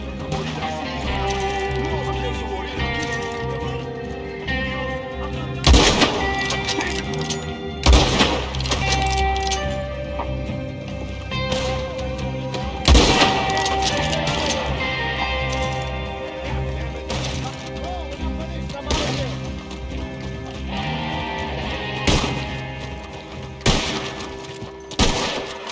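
Gunfire in a Red Dead Redemption 2 online mission: sharp, loud shots crack out at irregular intervals over a steady bed of game music and background clatter, with occasional voices.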